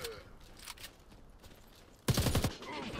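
Imbel IA2 assault rifle firing in the Warface video game, a loud close burst of rapid shots lasting about a second after faint scattered gunfire in the background.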